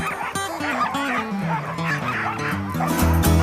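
Sled dogs at a dogsled race bark and yip excitedly in a loud, close, overlapping chorus, several animals at once with rising and falling howling yelps.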